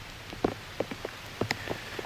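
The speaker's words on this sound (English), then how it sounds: "If you'll see, it's raining." Rain patters outdoors during a turkey hunt, with distinct drops striking a nearby surface in irregular taps over a soft background hiss, no voices.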